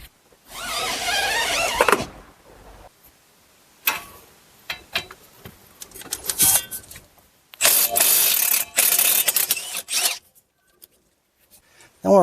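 A ratchet works loose a wheel bearing bolt on a 2010-2016 Buick Lacrosse, giving sharp clicking bursts separated by quiet gaps, alongside clanks of the wheel being turned.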